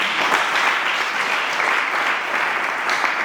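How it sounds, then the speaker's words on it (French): Wedding guests at a Congolese wedding applauding, a dense, steady wash of many hands clapping close by for a few seconds with no pause. "Est-ce qu'on peut acclamer s'il vous plaît?"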